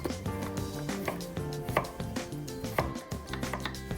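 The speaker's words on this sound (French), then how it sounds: "On va découper les champignons en fines tranches et ensuite en petits morceaux." A knife chops mushrooms and carrots on a cutting board in quick, uneven bursts of crisp taps, close and clear with no talking.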